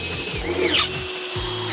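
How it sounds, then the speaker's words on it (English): A power drill whirs in short bursts with a rising and falling motor pitch, close by, over a steady hum. "Right, time to drill."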